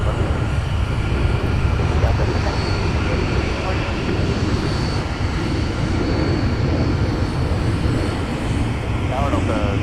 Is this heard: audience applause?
no